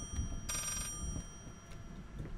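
A telephone rings once in the horror game Layers of Fear, a short bright burst of ringing heard fairly clearly over a low, murky game ambience.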